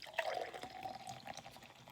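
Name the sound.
pouring brewed coffee into a cup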